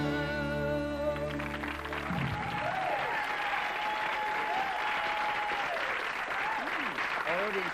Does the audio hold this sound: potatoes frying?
no